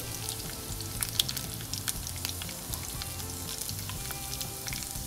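Dried red chillies, curry leaves and a clove of garlic sizzle steadily in hot oil with mustard seeds, a dense continuous crackle with sharp pops, close and fairly loud, without any voices.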